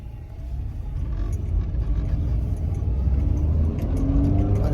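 A Subaru 2.5-litre four-cylinder all-wheel-drive car is driving, with a steady, loud engine and road rumble that holds throughout.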